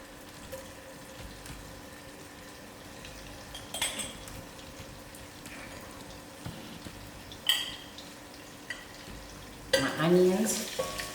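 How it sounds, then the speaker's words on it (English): Oil and margarine heat in a pot with a soft, low sizzle, broken by a few louder clinks and scrapes of a utensil against the pot; no talking. "I've got my pot heated up, of which I'm going to add my oil in"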